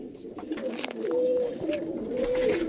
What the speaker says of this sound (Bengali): এবার শখ করাচ্ছি আন্ধা ফুলশিরা কালশিরা মেল, এর সাথে ফুলশিরা ফিমেল। পায়রাটা খুব ঝটপটে পায়রা।